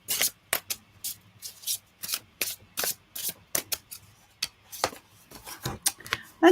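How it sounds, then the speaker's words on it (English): Tarot cards being shuffled by hand, a run of crisp riffling bursts in an irregular rhythm, close and fairly loud, with no voice over them. "Let's give these cards a really good shuffle for you, Dylan."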